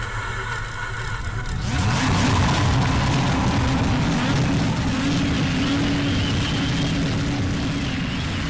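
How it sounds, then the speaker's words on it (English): Multiple race car engines in iRacing fire up together on the Road to Indy grid, a quiet idle swelling into a loud, dense roar of revving motors that holds steady. "Start your engine."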